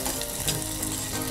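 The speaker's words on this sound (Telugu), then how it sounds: "అవి బాగా ఫ్రై అవ్వాలండి." Dried red chillies frying in oil in a pan for veg biryani, giving a steady dense sizzle with light crackles, close and continuous with no voices.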